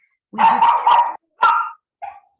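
A dog barks three times, close and loud: first a longer double bark, then a sharp single bark, then a short softer yip, each separated by brief silence.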